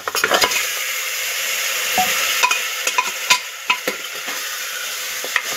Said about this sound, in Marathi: आता आपण यामध्ये जे हे पाय आपण स्वच्छ धुवून घेतले होते ते टाकून घेऊया।